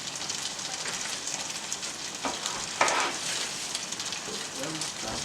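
Dumplings go a few at a time into a pan with a continuous hiss, and a couple of brief splashes stand out midway against the steady background.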